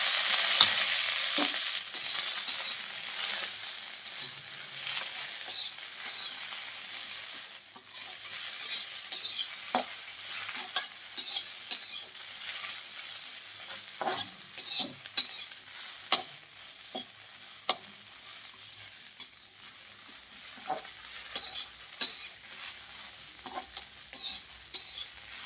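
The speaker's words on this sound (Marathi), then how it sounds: "थोडंसं तेल टाकून आपल्याला ही भेंडी भाजून घ्यायची" Okra roasting in a little oil in a pan, a soft continuous sizzle broken by frequent sharp scrapes and clinks of a spatula stirring against the metal, close and steady with no talk.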